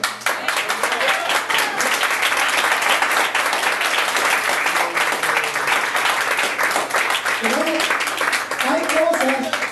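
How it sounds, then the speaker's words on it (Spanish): Congregation applause at an evangelical church service with a gospel singer: continuous, dense clapping from many hands, loud and close, with some voices and faint tones mixed in toward the end. "¿Me puede dar un aplauso, Señor?"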